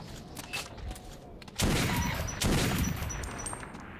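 Gunfire from a weapon in the Metro 2033 video game, with a dense fusillade of shots swelling loud at about 1.6 seconds and again at 2.4 seconds, then tailing off into rumbling echoes.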